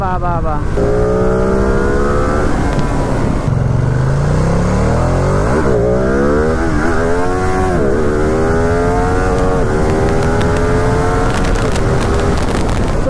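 A Ducati Streetfighter V2 motorcycle engine revs hard and loud through rising and falling pitch sweeps, climbing and dropping through the gears in a continuous close roar, with someone talking over it.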